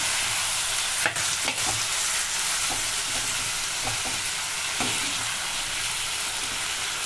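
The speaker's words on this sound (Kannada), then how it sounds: "ಇದು ಎಣ್ಣೆಲಿ ಚೆನ್ನಾಗಿ ಫ್ರೈ ಆಗಲಿ, ಈರುಳ್ಳಿ ಬೆಳ್ಳುಳ್ಳಿ ಜೊತೆ" Tomatoes frying in hot oil with onion and garlic for a tomato chutney, a steady close sizzle with several light scrapes and stirring clicks, with no talking.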